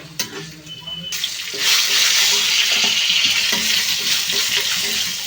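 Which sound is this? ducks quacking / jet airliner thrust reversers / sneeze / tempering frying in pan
tempering frying in pan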